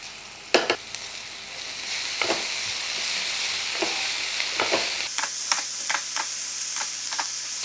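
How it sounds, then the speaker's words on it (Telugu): Ginger garlic paste fries in hot oil with drumsticks, giving a steady, close sizzle throughout, broken by occasional sharp clicks and scrapes from stirring. "అల్లం వెల్లుల్లి పేస్ట్ వేసిన తర్వాత 1 నిమిషం పాటు వేగనివ్వండి"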